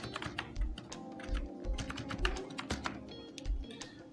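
Keys click on a computer keyboard as a file name is typed, a quick irregular run of close, crisp taps with short pauses between bursts.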